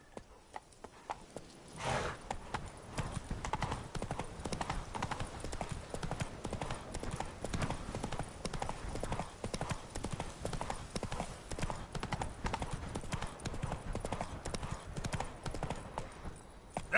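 Roach, the horse in The Witcher 3 Wild Hunt on PS5, galloping: a fast, steady run of hoofbeats carrying on for many seconds after a brief start.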